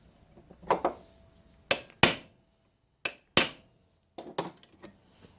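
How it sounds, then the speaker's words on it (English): Sharp metallic taps from a hammer and centre punch on soft metal carburetor parts for a 1957 Plymouth Belvedere, several spaced single strikes with brief ringing, close and clear with no talking. "I've sort of flattened them down and centre punch them just to flare them a little bit"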